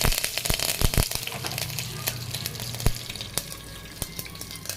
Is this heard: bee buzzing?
no